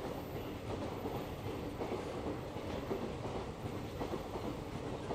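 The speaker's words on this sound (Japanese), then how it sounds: "車は EF510 の509号機です。" Freight train hauled by an EF510 electric locomotive passing near the Kureha tunnel in Toyama, a steady loud rumble with faint wheel clatter, continuous throughout with no voices.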